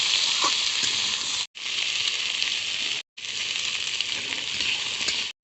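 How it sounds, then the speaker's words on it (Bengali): Green beans, potatoes and cauliflower fry together in a pan, a loud, close, continuous hiss of sizzling oil broken by two short silent gaps, with no voices. "সবজিগুলো এবার ভেজে নেব। সিম, আলু আর ফুলকপি একসঙ্গে ভেজে নেব।"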